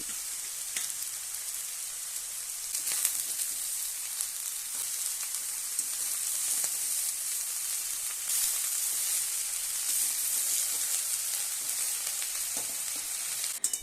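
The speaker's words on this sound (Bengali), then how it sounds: "তাই আমি অল্প অল্প করে দিয়ে ভেজে নিচ্ছি।" Cabbage frying in hot oil, added a little at a time, gives a steady dense sizzle for the whole stretch, with a few soft stirring scrapes and no voices.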